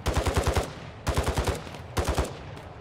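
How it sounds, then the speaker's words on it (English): Automatic gunfire in the video game Call of Duty DMZ comes from other players as three rapid bursts of sharp shots, each lasting about half a second, with short pauses between bursts. "See, they're shooting at somebody else."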